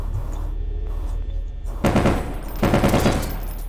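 Gunfire in Garry's Mod, the game, comes as two close, loud bursts of rapid shots, each lasting under a second, over a steady low background hum.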